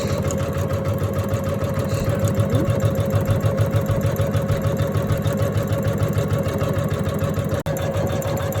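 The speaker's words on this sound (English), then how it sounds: "And now the machine is stitching a satin stitch." An embroidery-hoop sewing machine stitches a dense satin stitch for appliqué, giving a fast, steady mechanical whirring hum close by that runs throughout with one brief break near the end.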